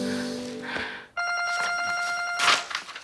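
A telephone rings in a Korean TV drama, a bright, rapidly trilling electronic ring with stacked tones after a brief pause, loud and close, following a short stretch of quieter background sound.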